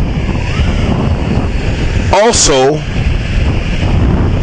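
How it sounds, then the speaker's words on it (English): Wind and sea waves roar steadily at the seashore, with heavy microphone buffeting throughout and someone briefly speaking in the middle. "as we are here at the sea, and the water is moving"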